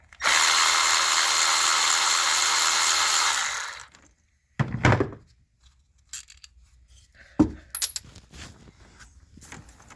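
A power drill spins out a 10mm bolt holding an ignition coil on a Chevy Traverse, one steady whirring run of about four seconds, then quiet workshop clinks and rattles.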